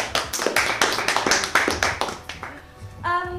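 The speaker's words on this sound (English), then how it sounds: "shall we give them both a big round of applause?" Small group applauding new members at a community centre, a brief patter of hand claps that fades after a few seconds, followed by a voice.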